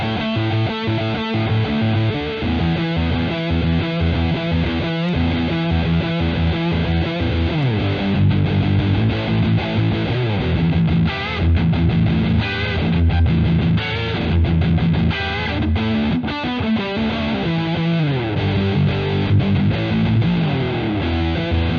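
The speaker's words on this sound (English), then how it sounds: "Today we are looking at the Miesnieks Distortion pedal from Jānis.lv in Latvia." Electric guitar played through a Miesnieks Distortion pedal from Jānis.lv of Latvia, a continuous saturated distorted tone with chords and riffs sustained loudly throughout, no talking.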